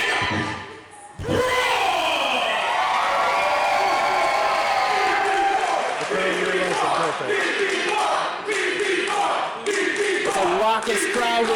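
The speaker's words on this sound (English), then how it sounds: "It's a raucous crowd we got coming here this evening." A raucous crowd at a wrestling tournament cheers and roars continuously for about ten seconds, loud and close, with shouting and bursts of applause while an announcer talks over it.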